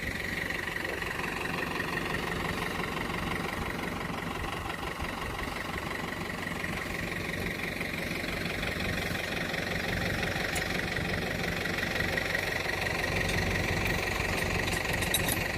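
A tractor with a harrow hitched idles steadily with a constant low knocking rumble, running evenly and unchanged the whole time, no talking.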